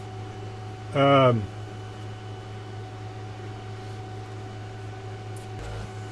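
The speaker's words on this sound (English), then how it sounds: "I want to apologize in advance for the noise from the spray booth" A spray booth runs with a steady, even mechanical hum and airy fan noise throughout. A single short spoken word rises briefly above it near the start.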